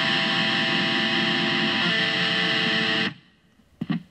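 A heavily distorted electric guitar chord through a BOSS ME-25 multi-effects unit on an extreme distortion setting sustains loudly for about three seconds, then cuts off, followed by a few faint scratchy string noises.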